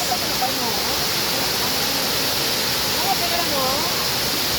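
Cambugahay Falls on Siquijor island roars as a steady, dense rush of falling water, loud and unbroken throughout.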